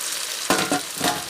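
Meat added to a reduced sauce sizzles and is stirred in a pan for a Congolese spare-rib dish, with a sudden burst of frying hiss and a few scraping stirs, close and steady, no talk.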